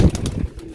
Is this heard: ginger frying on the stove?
no